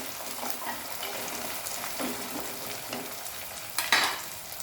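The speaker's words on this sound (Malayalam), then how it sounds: "അതുപോലെ അരിഞ്ഞിട്ട് നമുക്ക് ചെറിയ ഉള്ളി വഴറ്റാം." Small shallots sauté in a pan for a fish curry. A soft, steady sizzle runs throughout, with faint stirring scrapes and a brief louder clatter near the end, and no voices.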